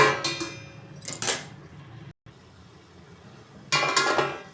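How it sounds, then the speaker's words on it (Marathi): A metal lid is set onto a cooking pot of carrot halwa simmering in milk, giving a few bright clinks and clatters near the start and again at the end, with a quiet gap between. "चला तर पुन्हा एकदा आपण ह्याच्यावर झाकण ठेवूया."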